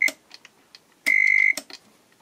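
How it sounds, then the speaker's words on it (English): A Soviet Elektronika 6.15M alarm clock under restoration sounds its alarm: a brief electronic beep, then a longer steady buzzing tone, with light clicks and handling noises around it. "It's the alarm"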